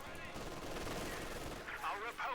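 Rapid steady gunfire from the Company of Heroes 2 game as troops suppress a rifle squad, a dense continuous rattle of shots underneath a commentator's voice.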